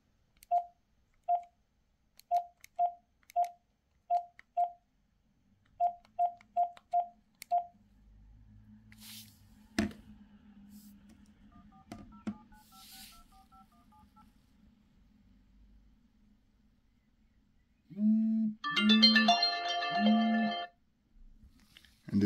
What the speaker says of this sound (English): let's go ahead and dial the number again